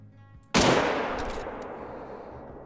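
A single loud rifle shot at a lion in a hunting video game, a sharp crack followed by a long decaying echo.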